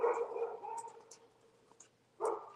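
Two neighbourhood dogs, one barking up at a house and another down on the road; a few barks and yips come through at moderate distance, with a louder burst near the end over a low background hum.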